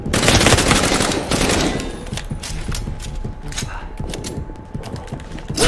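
Rapid automatic gunfire rattles loudly and continuously in the Resident Evil Re:Verse multiplayer game, dense bursts crowding the first seconds and then continuing as sharper scattered shots.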